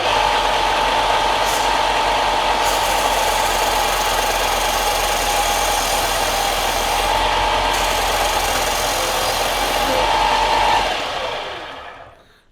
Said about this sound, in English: you basically apply a little bit of pressure on your cleaning stick and just gradually pull it across